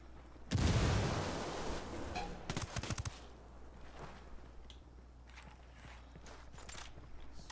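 A grenade explodes in the video game Ghost Recon Wildlands with a loud, booming blast early on, followed by a quick rattle of gunfire and scattered fainter shots and thuds.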